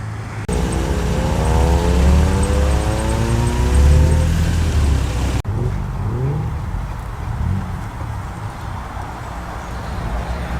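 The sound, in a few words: classic cars driving in to a car show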